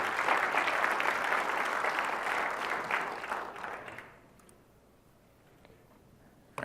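Audience at a tech conference session applauds steadily for about four seconds, then the clapping fades away, leaving near silence with a faint tap at the end.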